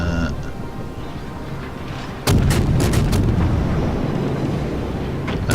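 Heavy warship guns firing in the naval combat game World of Warships aboard the tier 3 cruiser Bogatyr: a loud booming salvo that erupts suddenly and rumbles on, after a quieter stretch of background sound.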